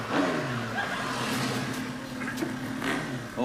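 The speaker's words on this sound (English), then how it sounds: "it sounds like old Bristow on his motorbike" A motorbike engine passing along a street outside a small corner shop, a moderately distant revving drone that rises and falls over a few seconds with faint voices in the background.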